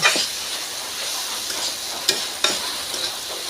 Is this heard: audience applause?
no